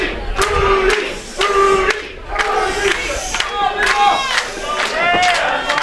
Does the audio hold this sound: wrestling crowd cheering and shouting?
yes